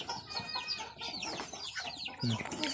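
Backyard chickens kept by a family cluck and squawk in a busy, overlapping chorus nearby, with varied short calls and one low burst near the end.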